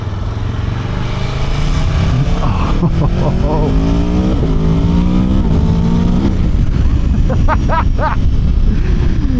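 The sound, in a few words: sport motorcycle engine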